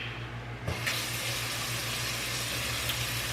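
Water runs steadily from a kitchen tap over quinoa held in a drainer, a constant close-up rushing spray with no pauses.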